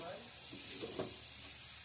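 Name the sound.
fried potatoes added to sizzling pea curry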